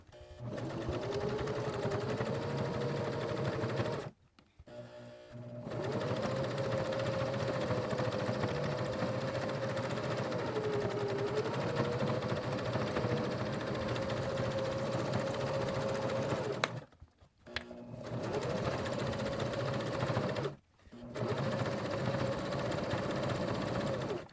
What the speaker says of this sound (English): we need to set our machine back to straight stitch